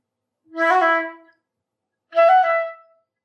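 Two short bursts of a bright, reedy melodic instrument playing an etude, each phrase with quick mordent ornaments at the start, separated by a brief silence.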